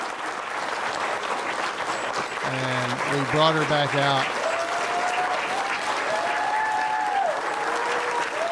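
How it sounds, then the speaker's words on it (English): A crowd at a Mayberry singing event keeps applauding steadily as singer Betty leaves the stage, a dense, continuous wash of clapping running beneath someone talking over it. "the crowd just continued to applause for her"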